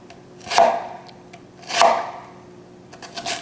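Two crisp knife chops through an onion on a cutting board, spaced about a second apart, close and fairly loud, followed by a few lighter knife taps.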